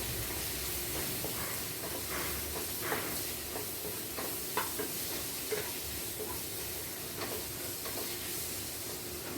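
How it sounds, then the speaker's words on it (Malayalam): Turmeric and coriander powder fry in an oily pan for an egg kurma, a soft steady sizzle and hiss with occasional faint stirring scrapes, fairly quiet and close with no voices. "1 ടീസ്പൂൺ മഞ്ഞൾപ്പൊടി, 1 ടീസ്പൂൺ മല്ലിപ്പൊടി. കൂട്ടൊന്ന് മൂക്കട്ടെ."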